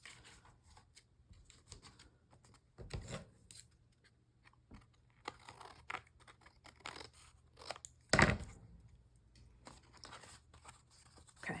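Paper being snipped with scissors while making a pocket for a handmade butterfly junk journal: quiet, scattered cuts and rustles, with a couple of sharper, louder snips standing out near the middle and end.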